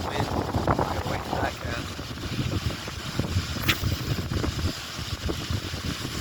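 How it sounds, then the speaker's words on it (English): Gusty wind buffets the microphone at a lakeside fishing spot in Papillion, Nebraska, a steady low rumble that swells and eases, with a brief whoosh near the middle. "Oh, that wind."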